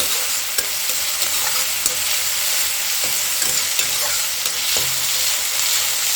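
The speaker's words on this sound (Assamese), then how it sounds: "এইখিনি মই ভালদৰে সিজি লোৱালৈকে মই ভাজি ল'লোঁ" Continuous loud sizzle of an egg dish frying in a pan, punctuated by small pops and occasional light taps of a utensil.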